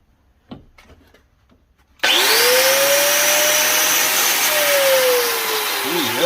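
A DeWalt DWE402 11 amp angle grinder switches on after a few soft handling clicks and runs steadily at close range with a loud high whine, its pitch dipping slightly as it spins.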